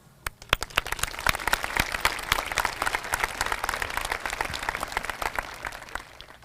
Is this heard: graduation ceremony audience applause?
yes